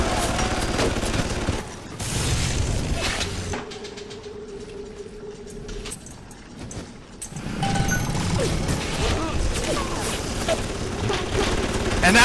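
Automated security turrets trade rapid fire in a BioShock shootout, with dense bursts of gunfire and crashing impacts, a brief lull with a mechanical hum, then the chatter of shots resumes loud and continuous.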